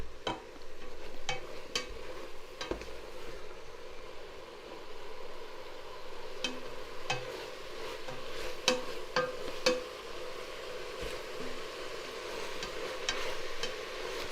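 Chopped onions and minced meat cooking in a pot with a tablespoon of oil, a soft steady sizzle with occasional clicks and stirring scrapes, fairly quiet and without talk.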